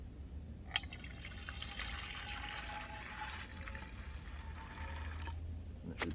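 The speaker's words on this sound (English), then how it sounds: "I'm going to dump some of it right into the sprayer so it makes room for the salt I'm about to put in." Vinegar pours from a jug into a garden sprayer outdoors, making a steady hissing, gurgling splash that runs for about five seconds and then stops with a small clunk.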